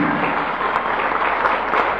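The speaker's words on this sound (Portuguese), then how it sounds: "pode aplaudir." Church congregation applauding during a sermon, a steady, moderately loud wash of clapping from many people that holds without pause for two seconds, with no talking.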